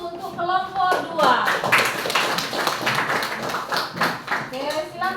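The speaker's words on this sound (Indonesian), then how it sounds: "Berikan aplaus untuk kelompok 2." A classroom group applauds for the second group, a short burst of clapping mixed with a teacher's voice talking over it.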